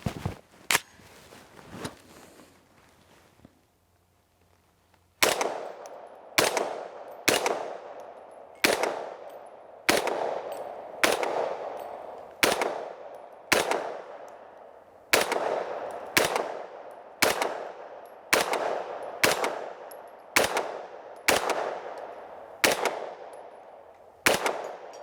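An Extar EP9 Gen2 9mm pistol fires about sixteen loud, sharp shots outdoors in a steady, evenly spaced rhythm, each followed by a ringing echo, after a few quieter handling clicks at the start.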